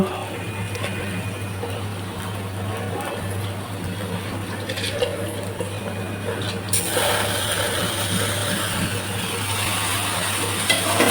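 Rice and lentils (moong and masoor dal) dry-frying in a pan for khichuri, a steady close rustling sizzle with occasional stirring scrapes, growing brighter and louder partway through.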